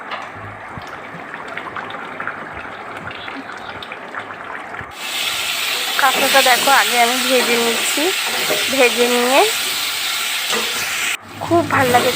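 Crab pieces and pre-fried potatoes sautéed in a pan for a red crab curry, a steady hiss that swells louder midway, with scraping and stirring and a voice talking over it.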